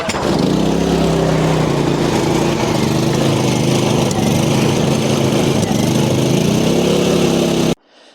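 Hyundai portable petrol generator running after a carburettor repair: a loud, steady buzzing engine drone with a slight wavering pitch that continues nearly the whole time, then cuts off abruptly near the end.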